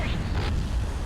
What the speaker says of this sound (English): They're firing their guns.